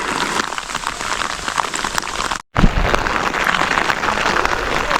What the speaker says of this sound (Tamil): இப்போ நம்ம ஏரியானும் மழை ஓர பெய்யுது